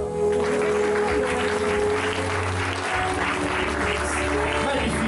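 An audience at a wedding fair fashion show in Saubrigues claps steadily and loudly throughout, a dense continuous applause over a low music hum.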